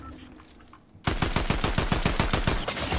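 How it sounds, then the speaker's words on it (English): Rapid video-game gunfire erupts suddenly after a second of quiet and keeps going as a steady, loud burst of evenly spaced shots with no pause, more like an automatic weapon than a single sniper round. "I just got sniped"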